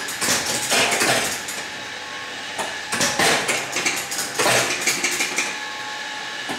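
A 1957 Miss America bingo pinball machine runs its mechanism in bursts of rapid mechanical clattering, ratcheting and clicking, with short pauses between bursts, close and fairly loud.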